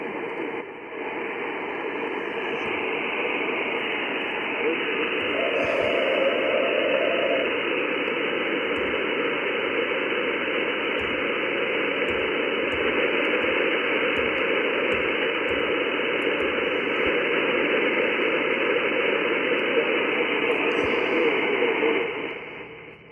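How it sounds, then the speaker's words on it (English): Steady hiss of radio receiver static from the preamp with RF gain turned way up, not overloading, heard on a Malahit DSP2 SDR compared against an Icom 705; a broad, even noise wash runs continuously with no talk. "It's not overloading, but the preamp is bringing in a little more noise."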